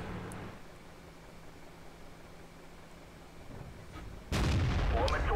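A tank cannon fires in the World of Tanks video game: one sharp, loud blast breaks in near the end after a quiet stretch of low, steady rumble.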